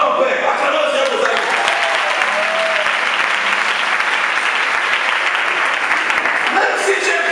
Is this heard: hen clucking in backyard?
no